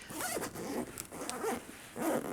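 Zipper being pulled open on the front pocket of a Samsonite Xenon 3.0 large backpack, three quick rasping strokes in succession, close and fairly loud.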